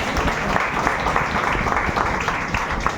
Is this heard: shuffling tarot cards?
no